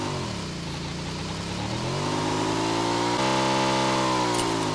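A motorcycle engine in PUBG Mobile drones steadily and climbs in pitch as it accelerates, loud and continuous with no talk.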